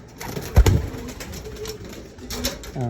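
A pigeon coos softly a couple of times, close by, with a low muffled thump near the start and quiet background noise.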